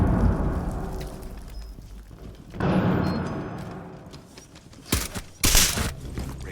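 Bursts of gunfire in the tactical shooter game Rainbow Six Siege, including shots from a window, coming as a few loud, sharp volleys over a steady low in-game background rumble.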